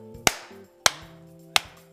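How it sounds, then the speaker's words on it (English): Three sharp, separate hand claps land about half a second apart and ring out clearly and close, with quiet gaps between them and no talking. "Though, triple clap."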